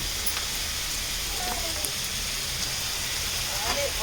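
Sliced onions frying in white oil with whole garam masala, a steady low sizzle running throughout with faint scattered crackles, close and fairly quiet.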